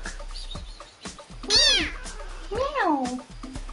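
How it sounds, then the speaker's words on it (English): A cat gives two clear, rising-and-falling meows close by, with soft background noise around them. "Meow."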